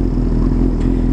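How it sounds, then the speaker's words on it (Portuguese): A Honda CB 1000 motorcycle exhaust idling with a deep, steady rumble, loud and close, continuous without revving. "Ficou filé pra caramba o barulho de escape"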